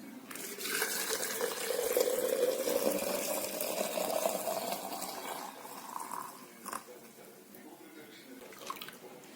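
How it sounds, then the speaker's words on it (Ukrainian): Warm, milky mixture of magnesium sulfate cooked in soda being poured into a glass jar, a steady liquid stream with a rising pour tone for several seconds before tapering into small drips and clinks. "І заливаємо туди це от молочко, магній сульфат, який поварився в нас в соді."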